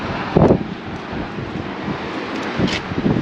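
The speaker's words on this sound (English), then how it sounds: "It's very windy, so my apologies if you're getting wind noise." Wind buffets the microphone outdoors in a windy canyon near a waterfall, giving a continuous rumbling roar with several louder low gusts and thumps.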